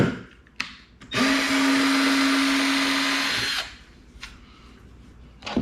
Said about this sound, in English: I'm impressed that this Ryobi was able to drill completely through this piece of hickory.